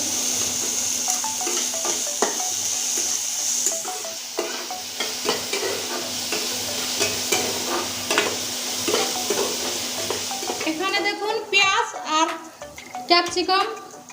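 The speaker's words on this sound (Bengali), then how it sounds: "পেঁয়াজটা তাড়াতাড়ি ভাজা হয়ে যাবে" Onion frying in oil in a pan, a continuous near sizzle with stirring scrapes, rising into sharper bursts of crackle and spatter toward the end.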